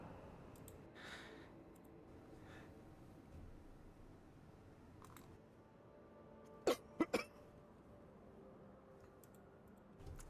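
A person with a tickle in the throat coughs and clears it away from the microphone, a quick muffled cluster of three or four coughs in an otherwise quiet room with faint background hiss.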